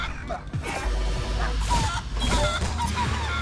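Video game chickens honk and squawk loudly in quick, overlapping calls amid crashes and other game noise, with a voice briefly heard in the mix.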